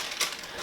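Paper packing rustled and crumpled while unboxing a pair of Sidi Shot 2 shoes, a short close crinkle with one louder crunch in the middle.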